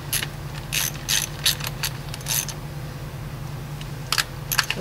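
A hand ratchet clicks in short, close bursts while tightening valve cover bolts into a plastic cover on a 2001-2005 Honda Civic, with brief pauses between strokes over a steady low hum.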